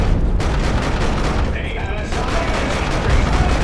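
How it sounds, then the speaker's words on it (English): Ripper gun fire from Imperial Guard Ogryns in the Dawn of War 2 video game, a rattling burst of repeated heavy shots with booming impacts, over a spoken voice. "Those Ripper guns, as you can see, doing some damage to those tactical marines as they chase."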